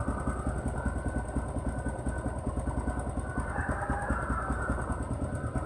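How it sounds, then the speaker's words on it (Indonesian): A carbureted motorcycle engine idling steadily after a hard cold-morning start, with a fast, even, close thumping pulse that continues throughout and no talking. "Oke, sekarang motor udah bisa hidup teman-teman ya."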